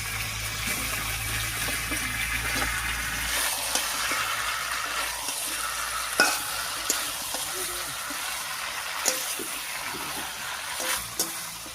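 Chicken pieces frying in a pan as they are stirred, a continuous close sizzle with wet scraping strokes and a few sharper clicks of the utensil against the pan.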